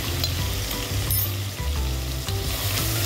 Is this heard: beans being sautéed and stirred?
yes